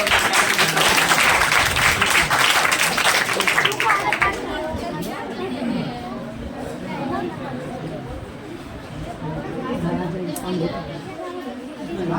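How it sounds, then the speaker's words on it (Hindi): Loud applause from a crowd at a school farewell and honour ceremony in Bhojpur, Bihar, clapping densely for the first few seconds and then fading into murmuring chatter and voices. "जोरदार तालियों के साथ"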